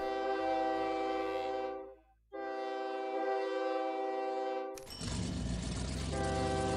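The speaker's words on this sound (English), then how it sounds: "Just hearing constant train sounds." Trains in the railway strategy game OpenTTD, with a long, tonal horn blast that stops, resumes after a brief gap, and then gives way to a loud, dense rush of rolling train noise.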